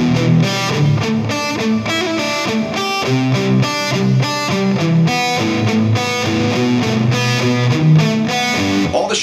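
Distorted electric guitar playing palm-muted arpeggiated chord shapes, a steady loud driving pattern of repeated picked notes with no talking.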